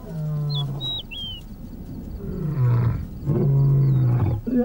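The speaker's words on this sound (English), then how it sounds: "Hook and Ahab have to roar as loud as they can, intimidating them to avoid bloodshed" Lions roaring in Ngorongoro Crater, a deep, drawn-out series of loud, close grunting roars that build in waves, with faint bird chirps above and no talking.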